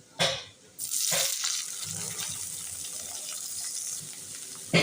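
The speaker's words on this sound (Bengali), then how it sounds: "এবার দিয়ে দিচ্ছি ক্যাপসিকাম কুচি" Chopped capsicum drops into a hot frying pan: a couple of short splashy bursts, then a continuous close sizzle that settles to a steady hiss, with another burst at the end.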